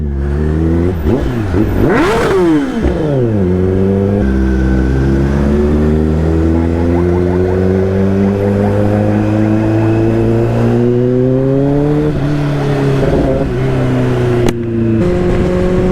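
A motorcycle exhaust revving hard and loud in a shopping mall, the engine note rising and falling through sustained throttle blips with steady harmonic drone, no talking.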